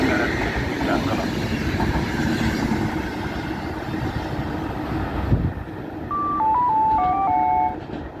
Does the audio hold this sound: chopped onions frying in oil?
no